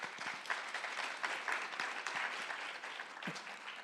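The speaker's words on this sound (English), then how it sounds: "Let's give them a round of applause." Steady audience applause for a distinguished panel at a Hong Kong business forum, heard at moderate distance for several seconds with scattered individual claps and a faint voice near the end.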